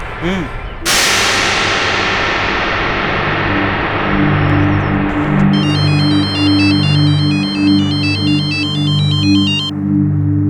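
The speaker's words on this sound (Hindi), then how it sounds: "अम्मी वो मीनाज के अनाथ आश्रम से फोन आया था, उनको आपसे बात करनी है अभी" A telephone ringtone chimes as a repeating electronic melody, ringing steadily for several seconds over background music, with a sharp clang at the start.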